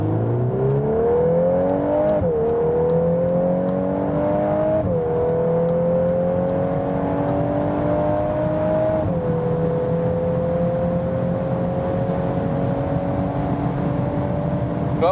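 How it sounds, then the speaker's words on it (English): A VW Golf R accelerates hard through several gear changes, its engine note climbing steadily, with faint crackling pops from the exhaust. "You hear that plopping from the exhaust?"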